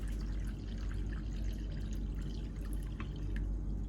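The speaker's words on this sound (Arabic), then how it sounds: "رح اضيف عليهم 4 اكواب من الماء" Water poured into a bowl of Nescafé cake mixture, a steady close liquid pour with dripping and splashing running the whole few seconds, with no talking.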